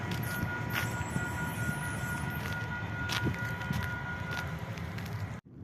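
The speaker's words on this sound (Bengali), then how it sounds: "ট্রেন চলে যাচ্ছে" A train passes near a station in Edmonton, Canada, its loud, steady rumble and rattle filling the scene without a break before cutting off abruptly at the end.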